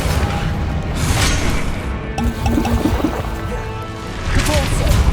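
Rumbling blasts and crackling bursts from spells in the Hogwarts Legacy video game, including the Confringo blasting charm, fill a busy, loud game mix with a voice speaking through it.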